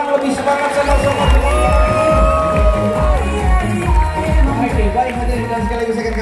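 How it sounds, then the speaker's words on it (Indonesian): Spectators at a dolphin show at Dufan Ancol cheer and clap loudly in a lively crowd, with shouts and whoops under a rhythmic thumping background and some talking. "tepuk tangan lebih semangat sama-sama"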